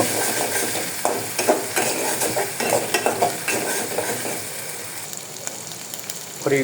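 Garlic paste, with chili and ginger, is stirred in a hot pan and sizzles loudly and steadily. Scraping strokes of the spoon come through close up, and no one speaks.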